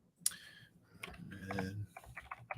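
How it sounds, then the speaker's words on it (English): Fingers tap out a short burst of crisp, close clicks on a computer keyboard, uneven in rhythm, in a quiet room. "Got to type it in here."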